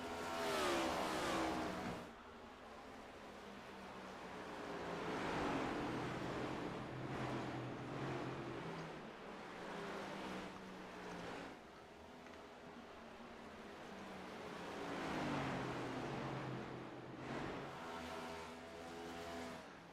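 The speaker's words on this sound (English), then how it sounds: "Cars spread out all the way around this 3/4 mile." Race cars in a sim racing game lap the 3/4 mile Richmond Raceway oval: engines drone and swell as cars pass, then fade, then rise again, with no voices.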